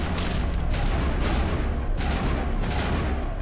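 Grenade blasts and gunfire from the Mass Effect Legendary Edition video game on PC, several loud booms in a row over a dense, continuous battle din.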